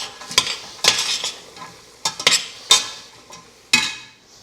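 Carrots cooking in a pot for pea soup, with a soft frying sizzle broken by half a dozen sharp scraping and stirring strokes at irregular intervals, close by and with no talking.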